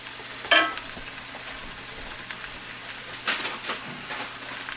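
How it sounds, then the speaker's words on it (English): Andouille sausage hitting a hot pan, a steady frying sizzle with a couple of brief scraping stirs and clatters near the start and middle, no talking. "let's add in the"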